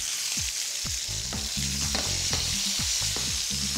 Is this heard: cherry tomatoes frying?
yes